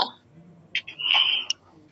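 A short, muffled cough from a speaker with a persistent cough, close by during a devotional talk, a couple of quick bursts in an otherwise quiet room.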